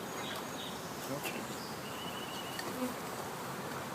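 Honeybees buzz steadily around an open hive, a dense close hum with individual insects flying past, while a voice speaks faintly in the background.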